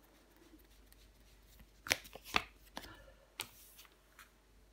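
Tarot cards are handled and laid down on a table, a few faint soft slaps and riffling flicks scattered over several seconds in a quiet room, close by, with no talk.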